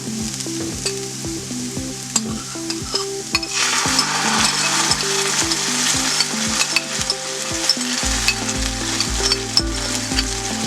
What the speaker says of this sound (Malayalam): ആ സോസ് ഇതിനകത്തോട്ട് നമ്മൾ ചേർക്കുന്നു